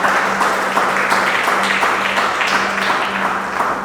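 A church congregation at Igreja Brado Church applauding during worship, a steady wash of clapping throughout with a low sustained hum beneath.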